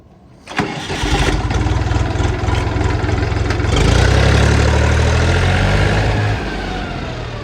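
A Xingtai 244L tractor's diesel engine cranks and catches with a sharp start, then settles into a loud, steady diesel idle that rises briefly before dropping back.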